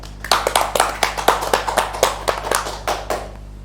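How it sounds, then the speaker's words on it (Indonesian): A small group claps for a departing student at a campus podcast gathering, with loose uneven rhythmic claps at close range over a low steady hum, fading slightly toward the end. "Tepuk tangan buat Mas Ferdian"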